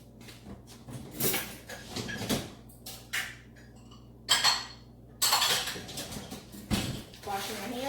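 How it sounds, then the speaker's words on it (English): Dishes, bowls and utensils from making a lemon icebox pie being loaded into a home kitchen dishwasher: scattered clinks, clatters and rack slides at close range, with brief spoken remarks among them. "throw all this in the dishwasher real quick and I'll be right back."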